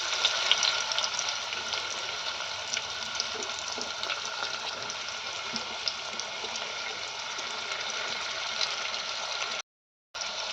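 Chopped onion sizzles and fries in hot oil with a cumin tempering for a spinach dish, a steady, close hiss with faint stirring clicks that cuts out briefly near the end.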